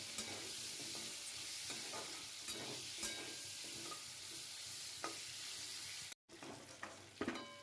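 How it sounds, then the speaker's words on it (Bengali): Potatoes fry in a pan with oil, salt and turmeric, giving a steady soft sizzle with repeated scraping stirs throughout, brief break near the end. "আলুগুলো একটু ভালো করে ভেজে নেবো।"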